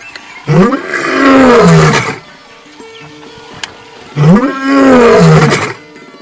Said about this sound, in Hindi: एक रात माता तीज कुंवर जी को स्वप्न में दहाड़ता हुआ एक शेर दिखाई पड़ा।